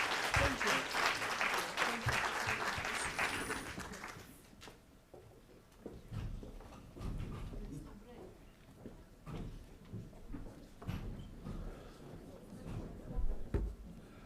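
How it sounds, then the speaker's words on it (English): Audience applause for the speakers at a knowledge valorisation conference, a dense burst of clapping for about four seconds that then dies away into scattered room noise, light shuffling and faint voices. "please give the speakers a round of applause"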